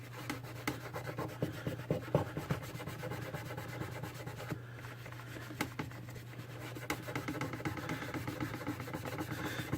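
Brush scrubbing with isopropanol across the circuit board of an Adman Grandstand 2600 MK2 console, a steady rubbing scratch repeated in quick strokes close up, over a constant low hum.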